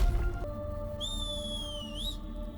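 A clear whistled tone glides slowly downward, then rises sharply at the end, over a steady low hum and background music.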